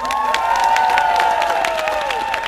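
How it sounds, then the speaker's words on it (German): A crowd at a live concert applauds and cheers for a girls' band that has just left the stage: a steady, loud wash of clapping and cheering with a sustained ringing tone running through it. "Gebt mal einen Applaus für die Mädels."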